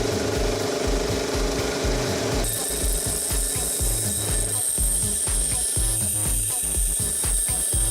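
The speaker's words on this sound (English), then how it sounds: "Using the grinding machine, I round off the workpiece." A grinding machine rounding off a small workpiece close by, giving a loud, continuous rhythmic mechanical chatter with a thin high whine joining partway through.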